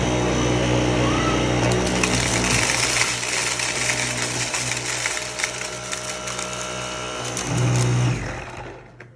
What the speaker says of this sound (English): Let's see how the V8 does with in low speed setting